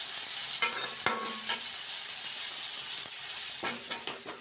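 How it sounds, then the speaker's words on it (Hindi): Vegetables with chillies and tomatoes tempering in hot oil in a kadhai give a steady close sizzle and frying hiss, broken by several short sharp scraping stirs of a spatula against the pan, with no one talking. "तो यहाँ पे तेल डाल के और जा रहे हैं दूसरी वाली सब्ज़ी छौंकने।"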